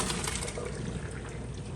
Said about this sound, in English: I'm gonna go ahead and pour the rest of the pasta